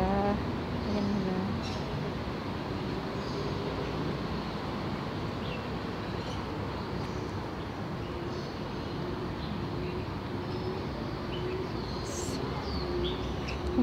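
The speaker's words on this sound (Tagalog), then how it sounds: "Parang kalapati ayan. Ayun na sila." Pigeons cooing in a Hong Kong park, a low murmur set against steady city traffic hum with faint chirps now and then.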